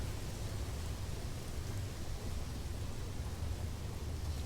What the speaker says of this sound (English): Tropical storms present here.